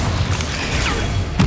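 An Incendio fire spell cast in Hogwarts Legacy gives a soft whooshing burst of flame over a low rumbling game ambience, ending in a brief heavier thump.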